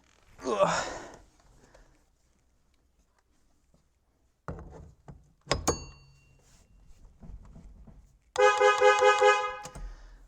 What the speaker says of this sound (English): we have horn